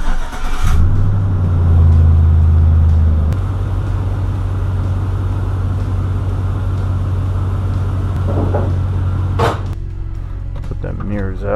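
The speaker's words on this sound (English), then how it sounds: "I'm gonna fire the truck up, pump the brake a few times" A 2004 Chevrolet Silverado truck engine cranks and fires up loudly, then settles into a steady low idle, close by, with a sharp click and some rustling near the end.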